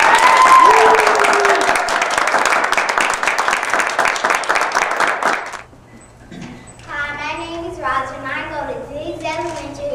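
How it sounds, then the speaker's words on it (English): Audience applause during a classroom spoken word performance, a dense round of clapping for about five seconds that stops abruptly, followed by a young performer speaking alone. "let's give them a preliminary round of applause just to make sure we get it."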